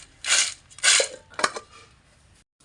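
Freshly fried home-grown plantain chips are shaken in a vessel, giving three close, crisp rattling bursts that fade quickly into quiet.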